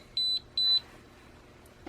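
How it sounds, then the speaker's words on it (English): A meter used in a load test of an Orient Power 12V 230Ah LiFePO4 battery gives two short, high, clear electronic beeps in quick succession. A faint click follows in a quiet room. "My meter's beeping like it's going to shut off."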